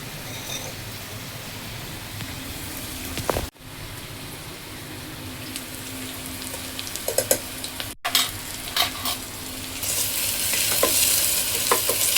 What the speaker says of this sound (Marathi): कांदा चांगला लाल भाजून घेते